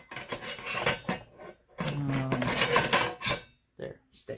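A bowl of hot-process soap made with mango butter is set down and shifted, giving close scraping, rubbing and knocking sounds in uneven bursts.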